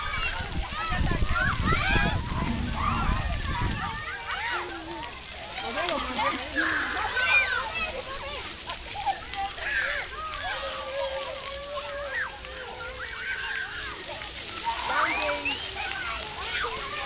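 Water splashing and spattering at a children's splash pad, a steady wash of spray and drips throughout, with a heavy close splash at the start and children's voices and chatter over it.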